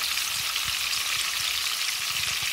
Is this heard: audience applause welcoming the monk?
no